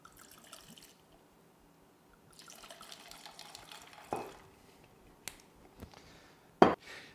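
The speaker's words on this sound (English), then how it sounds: "Then add a sensible amount of vodka." Vodka is poured into a cocktail shaker over ice, a soft trickling pour. Scattered clinks of ice and glass and a sharp knock come through a fairly quiet room.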